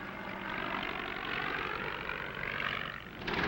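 An old World War I Spad biplane passing overhead, a steady droning propeller engine rising and falling as it flies by, moderately loud and alone.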